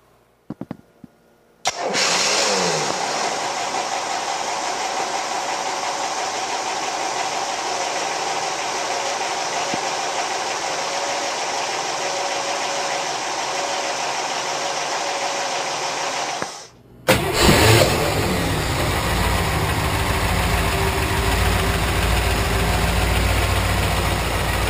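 A 6.5 kW Onan generator in the engine room of an Egg Harbor Golden Egg 38 boat starts up with a brief rumble, runs at a steady, loud drone, cuts briefly, and resumes with a heavier low hum.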